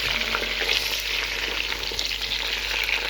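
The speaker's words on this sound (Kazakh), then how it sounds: "Осылай бір-екі минут қуырып аламыз" Steady, loud, close-up sizzling of chicken legs browning in a pot for plov, with dense crackling and no talking.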